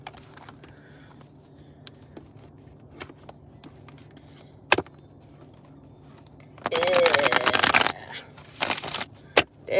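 Playing cards are shuffled in a quick, close, rustling burst lasting about a second, then two shorter riffles follow. Faint scattered taps and handling noises come before it.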